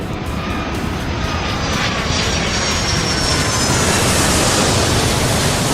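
In the Airport Madness 3 video game, an airliner roars steadily down the runway on takeoff, a loud broad engine rush that swells slightly as it goes.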